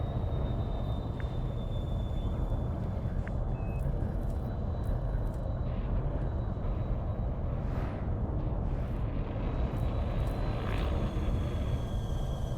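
A small spaceship flying in the video game Elite gives a continuous low engine rumble and drone, steady and loud throughout, with faint synthetic tones and brief whooshes above it.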